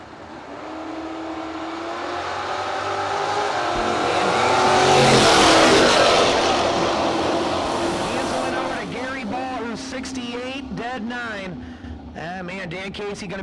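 Mustang and Camaro drag race cars launching side by side down the strip, engines roaring and swelling to a loud peak before receding, with an announcer talking over the noise.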